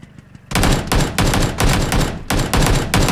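Loud AK rifle gunfire from the PUBG battle royale game bursts in after a quiet start, with rapid, repeated volleys separated by brief pauses.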